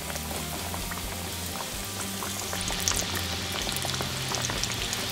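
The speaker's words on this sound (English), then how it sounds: "we're gonna go in 1 tomato at a time. Be careful, because the oil is hot." Sliced green tomatoes frying in a pan of hot oil for Southern fried green tomatoes make a loud, dense, continuous crackling sizzle with scattered pops, heard up close.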